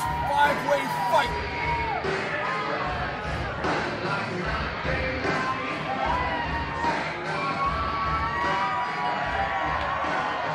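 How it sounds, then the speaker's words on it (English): A wrestling crowd at a five-man scramble cheers and whoops steadily, a dense wall of voices with shouts rising above it throughout. "Crowd showing their appreciation here."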